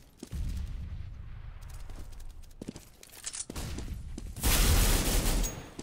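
Gunfire in a Counter-Strike match on the Dust2 map: sharp scattered shots, then a dense loud burst of rapid fire near the end, against quieter game ambience.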